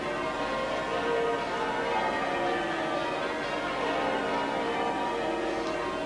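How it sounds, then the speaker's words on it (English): Church bells peal across the rooftops of the City of London during a royal wedding procession, a dense, continuous wash of ringing tones that stays steady and full for the whole stretch. "The bells ringing across the rooftops of the City of London."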